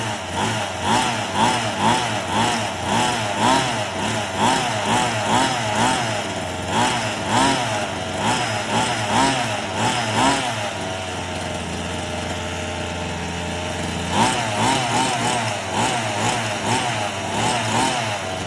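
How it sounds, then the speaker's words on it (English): A Redcat Rampage XR gas-powered RC rally car's small engine buzzes and revs in repeated short throttle blips during break-in, then settles to a steady idle before revving again, close and loud. "I'm gonna give it just a little bit of throttle"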